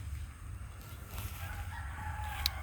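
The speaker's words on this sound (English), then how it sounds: "Can you hear our rooster George?" A rooster named George crows faintly from a distance in a home garden, a quiet drawn-out call heard through soft outdoor background noise.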